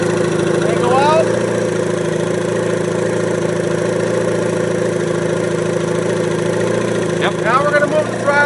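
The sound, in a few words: Evinrude E-Tec outboard motor idling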